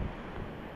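Strong wind from a signal no. 5 tropical storm roaring across the open microphone on the coast at Dinahican, Infanta, Quezon, a steady loud low rumble with waves and surf churning underneath, no one speaking.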